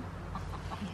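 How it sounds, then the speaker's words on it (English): A chicken clucks softly inside a barn under construction, a few muffled clucks against a steady background hum. "Is there a chicken in there?"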